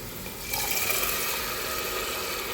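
Boiled black-eyed peas tip into a pan along with their cooking water, a sudden rushing splash that settles into a steady, close pouring wash with no talk.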